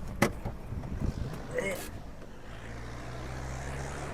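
A vintage 1970 English-made tractor approaches fast, its low steady engine drone building and holding after a few seconds of scattered thumps and rustling outdoor noise.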